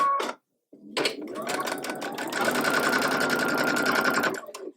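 A sewing machine stitches through nested quilt block seams, running in a steady, close mechanical whir for several seconds after a brief pause and a short start, with no talking.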